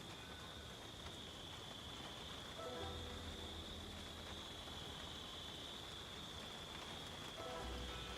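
Rain falls steadily in a survival video game, a dense continuous patter with a faint constant whine and a low rumble swelling twice, no voices.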